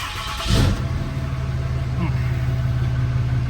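A 2016 Ram 2500 with a 4th-gen Cummins diesel cranks and fires up, then settles into a deep, steady, loud idle rumble close by.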